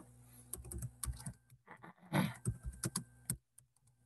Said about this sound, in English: Let me type this: reinforced concrete.